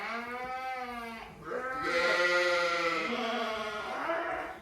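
Rams penned apart from the ewes bleat in a run of loud, wavering calls, one long cry sliding into overlapping bleats from several animals close by.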